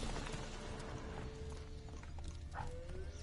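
Hooves of the horse Roach clip-clop in a steady galloping rhythm in The Witcher 3, close and continuous over a low ambient rumble, with no talk.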